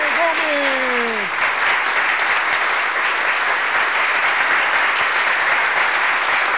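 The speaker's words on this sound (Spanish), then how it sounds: "señoras y señores, recibámosle con un fuertísimo aplauso" Loud, dense audience applause fills a concert hall as a balladeer is welcomed to the stage, a steady roar of many hands clapping throughout with a brief whistle-like sweep at the start.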